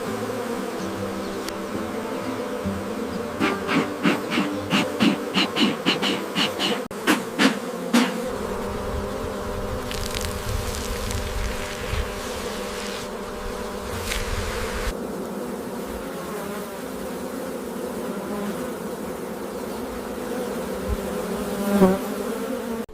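Honeybees buzzing around a hive at a honey factory, a steady dense drone with a burst of rapid clicking taps early on, continuous and close with no voices.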